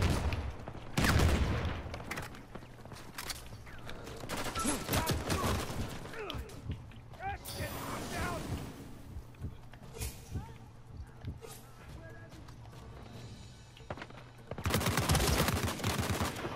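Gunfire from Uncharted 4 multiplayer: repeated bursts of shots rattle through the clip under and between excited voices talking and shouting, with louder clusters near the start and end.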